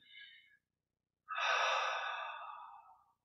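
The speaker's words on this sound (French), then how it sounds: "Respiration profonde pour sentir." Deep breathing during a guided Kriya Yoga meditation: a short inhale, a pause, then a long, loud, close exhale that slowly tapers off.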